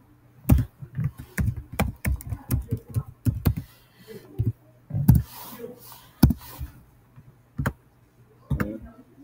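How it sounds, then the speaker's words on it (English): Someone types an ID number on a computer keyboard. The keystrokes are irregular, crisp and close, coming in quick bursts and short runs with brief pauses between them. "You can type in your ID number."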